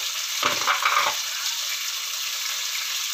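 Curry leaves dropped into hot oil in a pan for sambar burst into a sharp, loud crackling sizzle that settles into a steady, close frying hiss.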